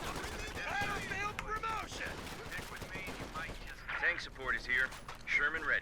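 Mortar fire and other battlefield gunfire in a Company of Heroes 2 match come as scattered booms and crackles at moderate volume, under continuous commentary talk.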